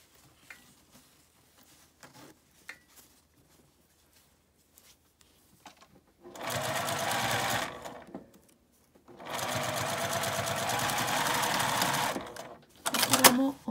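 Sewing machine running two steady bursts of stitching while topstitching the right side of a lined zipper pouch made from a single piece of fabric, each run lasting a few seconds, close and loud, with quiet handling sounds between.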